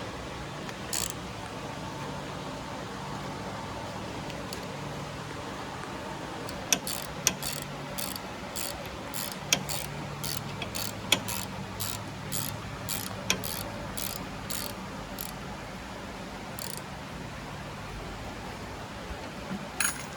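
Front brake caliper bolts being tightened on an Arctic Cat Wildcat 1000, a long run of quick, crisp ratchet clicks in a steady rhythm against faint background hum, after a quieter stretch.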